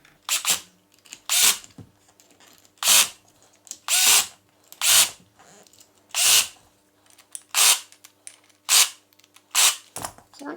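A cordless power drill tightens screws on a Baxi boiler diverter valve in nine short whirring bursts, each about half a second long, separated by brief pauses with faint background hum.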